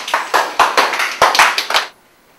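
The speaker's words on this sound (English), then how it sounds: "Give him a round of applause." A small group gives a short burst of clapping at an exercise session, about eight to ten distinct hand claps close by, irregular in rhythm, ending abruptly and leaving quiet.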